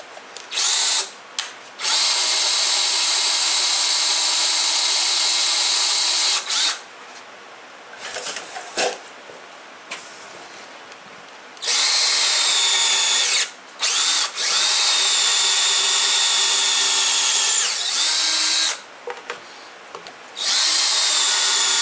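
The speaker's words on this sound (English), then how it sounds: "I can go ahead and drill that and then fit the dowel into it" Loud power drill whirring in several long bursts with short pauses between, boring a dowel hole into wood, close up.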